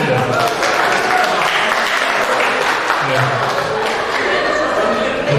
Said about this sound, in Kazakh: сол жігіттер бір қол шапалақтап қойыңдар енді